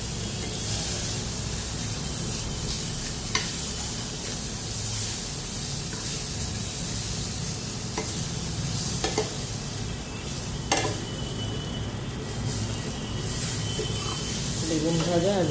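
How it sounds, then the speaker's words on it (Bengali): Eggplant frying in a pan, a continuous hissing sizzle throughout with occasional scraping and clinks as it is stirred, steady and close, with no talk. "বেগুন ভেজে নিচ্ছি।"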